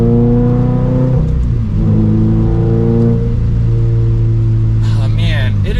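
A Toyota GR86 engine and exhaust rev steadily, loud and droning from inside the cabin, the pitch rising and falling through gentle revving with no speech.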